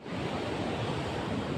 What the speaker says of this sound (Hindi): तो ये गाइस पानी मोर वाटरफॉल फ्रॉम असम